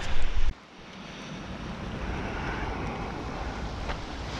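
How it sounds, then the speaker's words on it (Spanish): A river swollen after rain rushes in a steady broadband roar close to the microphone, with wind buffeting the mic for the first half second before the continuous water noise settles in alone. "Y miren, amigos, aquí está el río."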